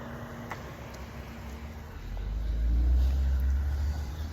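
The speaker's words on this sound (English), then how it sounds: "Wait, there's another car." A car passes along a road, its low rumble swelling from faint to loud midway and holding near before easing, heard from the roadside during a bike ride.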